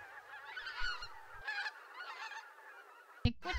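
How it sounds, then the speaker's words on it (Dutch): A flock of geese arriving in a Dutch polder in autumn honks repeatedly, overlapping calls from several birds, moderately close, with a brief low thump near the end. "Dus is het de tijd dat ganzen in de polder arriveren."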